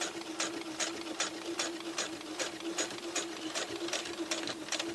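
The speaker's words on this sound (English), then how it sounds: "And then I'm just going to reverse back up the line I've just stitched down." A sewing machine runs steadily in reverse back along a freshly stitched circle skirt seam, its needle clattering in quick, even bursts at close range with no talking.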